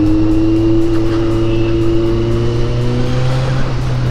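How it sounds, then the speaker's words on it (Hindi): Kawasaki Z900 motorcycle fitted with a loud slip-on exhaust, holding a steady, droning engine note with strong low harmonics that slowly shift in pitch, loud and close throughout with no talking. "धीरे धीरे एग्जॉस्ट की आवाज़ खुल रही है,"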